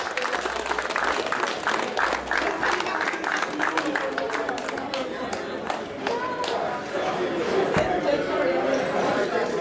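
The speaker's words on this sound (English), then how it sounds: "I would like you all to give a round of applause for having this tournament" An audience at a cricket tournament gathering claps in a steady round of applause, dense and fairly close, with background chatter and voices mixed in throughout.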